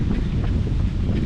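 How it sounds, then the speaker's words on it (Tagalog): Strong wind buffets the microphone during an afternoon run, a dense, continuous low rumble with no voices. "Lakas ng hangin ngayon dito."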